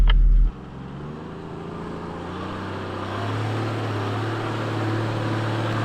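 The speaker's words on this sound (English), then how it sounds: "I don't think I've ever had so much wheel spin doing a track." A budget 4WD engine drones steadily close by as its tyres spin on a wet, greasy high-country track, with the revs climbing and holding higher partway through.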